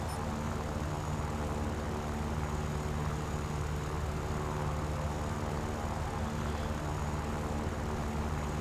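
A P-38 fighter plane's propeller engine drones in War Thunder, an arcade air battle game. The roar is steady and dense and runs loud and unbroken throughout, with no voices.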